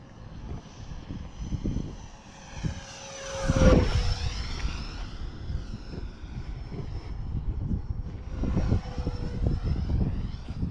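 An FMS F-15 Eagle RC model jet flies overhead outdoors. Its whining engine rises to a loud pass-by with a falling pitch sweep, then drops back to a steady distant drone.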